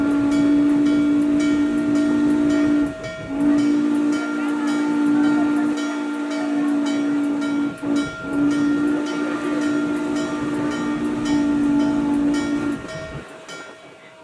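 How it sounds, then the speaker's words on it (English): A Norfolk & Western 611 steam locomotive nears a road crossing beside a motel, blowing its whistle in long, loud, sustained blasts with brief breaks, while the train rumbles underneath. "The train nears the first crossing, adjacent to the Red Caboose Motel."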